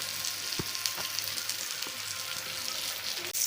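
Pomfret fish fries in a little oil in a pan, a steady soft sizzle with a few faint clicks and taps, fairly quiet and uninterrupted by talk.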